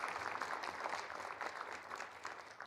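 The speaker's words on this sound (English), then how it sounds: "round of applause." Conference attendees clapping at a business meeting, a soft, even patter of applause from a modest crowd, fairly distant and continuous.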